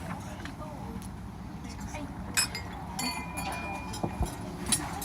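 Wedding guests clink glasses during a best man's toast, several bright, scattered chimes rising over a murmur of people chatting in the room.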